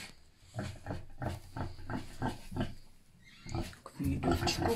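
Pigs at an animal sanctuary farm grunt and oink in a rapid, steady series of close, snorting calls. A person speaks over them toward the end.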